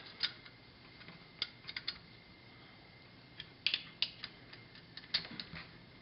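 Small parts being tightened during final assembly of a handle and brass spacer, giving sparse, quiet clicks and ratcheting ticks in short clusters against a faint background hiss.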